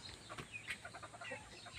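Faint clucking from chickens nearby, a few soft calls scattered over a quiet background.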